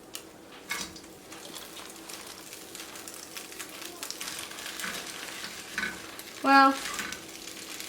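Noodles for pad see ew sizzle and fry in a hot pan, crackling steadily with scraping stirs and a brief clatter near the end, while a person speaks briefly.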